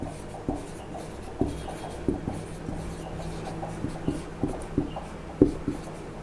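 A pen writing an arithmetic progression on paper for a class 10 maths lesson, with steady scratchy strokes and regular light taps, close and quiet, alone.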